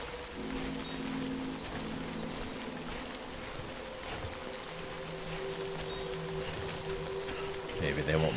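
Rain falling in the video game Death Stranding, a soft continuous patter under a low droning in-game hum, with a louder swell near the end.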